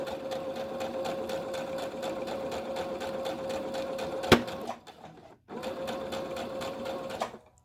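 A sewing machine stitches fabric for a surgical face mask, humming in a rapid, steady whir up close, then halting briefly with a clack before starting again and running for a couple more seconds.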